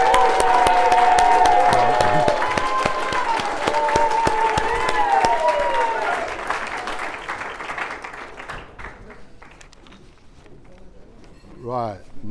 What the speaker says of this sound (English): give them both a really fantastic round of applause